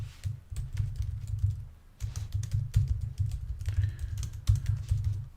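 Rapid typing on a computer keyboard, a steady stream of close, light key clicks with brief pauses, alone with no voices.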